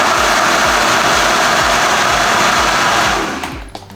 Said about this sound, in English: And now we're gonna blend that up.